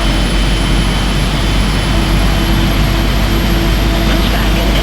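Boeing 777F jet engines spool up in a flight simulator game at Heathrow during pushback, a loud, steady roar with a low rumble and faint whine that holds continuously throughout.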